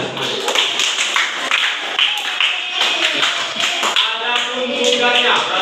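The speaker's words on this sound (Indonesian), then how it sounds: "Tepuk tangan buat kita semuanya." A classroom of students claps together in a busy, continuous burst of hand claps with shuffling, a few voices mixed in under the applause.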